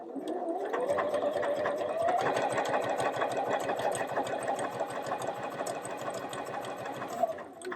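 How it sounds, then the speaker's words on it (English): A domestic sewing machine runs a triple stitch in one continuous, steady burst. The needle taps rapidly and evenly over a close motor hum, and the sound slows to a stop at the end. "I sew everything on my sewing machine"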